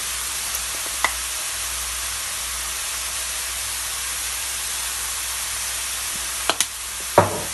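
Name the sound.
stirring sizzling tomato puree and cayenne in a pan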